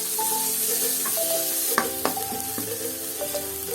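Chopped onion stirred and sizzling in hot oil in a pan while cooking chicken chowmein, a steady frying hiss with a couple of sharp spatula scrapes and knocks, close and alone with no voices.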